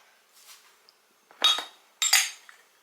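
A few light glassy clinks and scrapes as vodka and rose water are stirred together in a glass container, two brighter clusters of tinkling following a soft rustle, close and fairly quiet.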